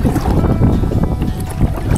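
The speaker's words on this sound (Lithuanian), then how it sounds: "O šiandien vėjas stiprus." Strong wind buffets the microphone outdoors on the Šešupė river during a fishing trip from a small boat, a dense, steady low rumble with gusting swells throughout and no speech.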